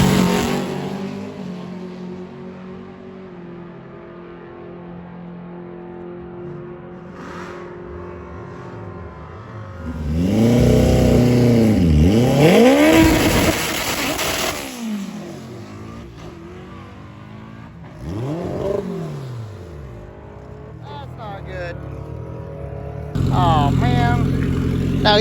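A Camaro and MR2 cars launching down a drag strip during Sick Week, loud engines revving hard and roaring away in rising, sweeping bursts, with quieter idling and crowd ambience between runs.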